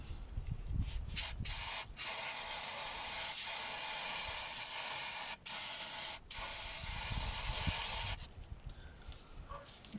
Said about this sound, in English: I'll just spray it on again.